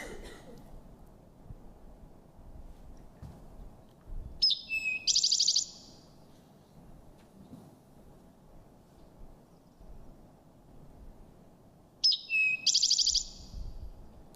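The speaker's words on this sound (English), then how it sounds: "This is the eastern towhee." An eastern towhee sings two short, bright phrases, one around the middle and one near the end, standing clearly above a quiet outdoor background hum.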